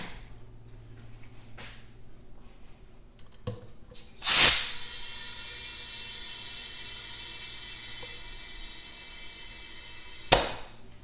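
Air hisses steadily into a dry-rotted mini bike tire that has been treated with Slime, rising in a loud rush and then continuing for several seconds before a sharp pop near the end.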